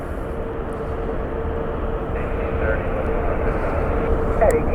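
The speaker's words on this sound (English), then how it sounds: "That's the Qatar A350 is taxiing." A Qatar Airways Airbus A350 taxis at Washington Dulles, a steady low engine rumble and whine heard from a distance, slowly building in level.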